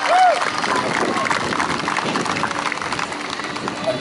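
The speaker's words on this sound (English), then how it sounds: "Let's give them a round of applause as they say for their time and their efforts" Audience applause at the Westville Canada Day Princess Pageant fills the room for the young contestants: steady, dense clapping from a crowd that holds at an even level for about four seconds, with a faint voice mixed in.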